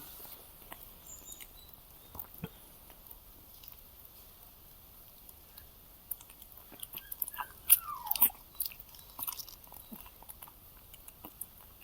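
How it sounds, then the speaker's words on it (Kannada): A Shih Tzu puppy chews deworming medicine at home, soft faint crunching and biting clicks scattered over a quiet background, growing a little busier toward the end. "ನೋಡ್ಬೋದು ನೀವು ಯಾವ ಥರ ಟೇಸ್ಟ್ ಮಾಡ್ತಿದೆ ಅಂತ ಪಪ್ಪಿ"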